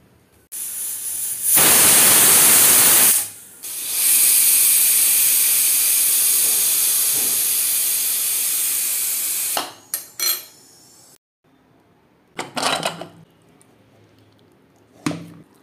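A pressure cooker boiling chickpeas for ghugni lets out a loud burst of hissing steam, followed by a longer, steadier whistle-like hiss that fades, then a few brief clinks of kitchen utensils.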